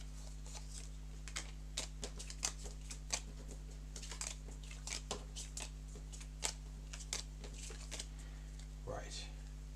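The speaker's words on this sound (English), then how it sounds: "We need to shuffle these up" Board game cards shuffled by hand at a tabletop play session, a run of crisp papery riffles and taps at close range over a low steady hum.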